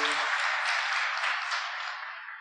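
Church congregation applauding together, a dense steady wash of clapping that holds loud for a couple of seconds and begins to fade at the end.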